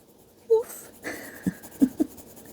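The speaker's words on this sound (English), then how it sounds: "One of my dogs is dreaming and she's going" A sleeping, dreaming dog gives a few soft, short muffled woofs and whimpering breaths, faint and spaced out in a quiet room.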